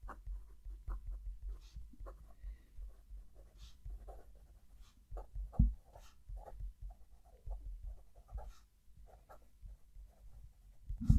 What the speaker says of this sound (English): we'll go back now to our Pilot, and we'll write the sentence